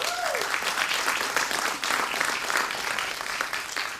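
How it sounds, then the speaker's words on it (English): A conference room of people claps steadily at a welcome address, dense and sustained applause throughout, gradually easing toward the end. "How about a big round of applause?"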